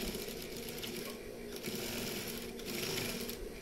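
A sewing machine stitching a shirt pocket flap, a close steady whirring hum that runs continuously through the short stretch, with a voice talking faintly underneath.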